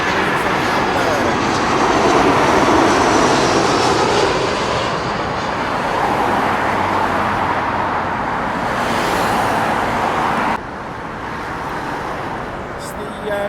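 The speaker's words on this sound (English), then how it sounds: "Eurowings A320 coming in from Hamburg." A Eurowings Airbus A320 airliner coming in to land at London Heathrow, arriving from Hamburg, gives a loud, steady jet engine roar that swells and shifts slowly overhead before easing off.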